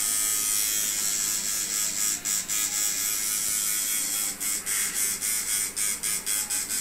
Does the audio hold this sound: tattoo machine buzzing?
yes